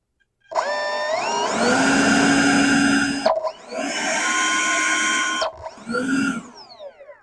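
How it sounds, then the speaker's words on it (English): A 70mm electric ducted fan on a HABU model jet whines up to a high, steady scream, drops and surges again in several bursts, loud and close with a rising pitch. "So I'm going to hold on to this guy and turn on the motor."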